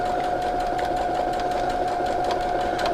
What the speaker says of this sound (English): now we've got this at the sewing machine